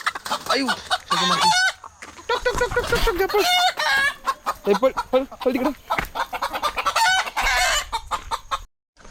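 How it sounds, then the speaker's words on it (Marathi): Loud, close chicken clucking in rapid, busy bursts, with voices talking intermittently among the birds. "तर ही कोंबडी बघू शकता पशी अशी आहे"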